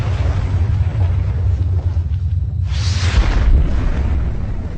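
Volcanic explosions produce a loud, continuous, deep rumble, with a sharper roaring burst rising out of it partway through before easing back into the heavy low roar.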